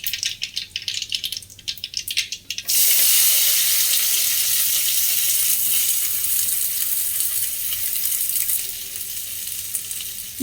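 Chopped onions hit a hot pan for aloo methi bhaji with a sudden loud sizzle after light clattering, the frying hiss holding steady and close before easing slightly near the end.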